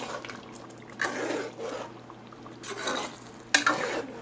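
Chicken karahi being stirred with yogurt in a pan, a soft scraping and wet stirring with faint sizzling that rises in two louder bursts, with a sharp clink near the end and no talking.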